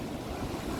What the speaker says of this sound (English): Two huge waves coming.